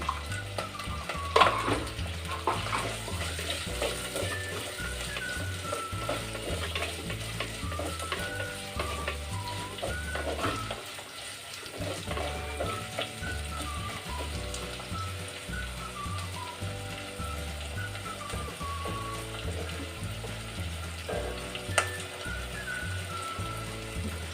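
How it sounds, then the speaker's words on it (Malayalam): Masala for a fish curry sautéing in a pan, with a continuous busy sizzle and repeated scraping and stirring strokes, plus a steady rhythmic mechanical hum beneath and a short lull midway. "ഒന്ന് വഴറ്റി ഇതിൻ്റെ പച്ചമണം ഒന്നും പോണ വരെ നമുക്ക് വഴറ്റിയെടുക്കാം"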